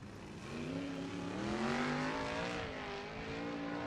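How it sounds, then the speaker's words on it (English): Sprint cars at Knoxville Raceway during a USAC National Sprint Car Championship event, engines droning steadily with rising and falling pitch as they roll onto the dirt oval, loud and continuous with no talk. "the next 2 cars roll trackside"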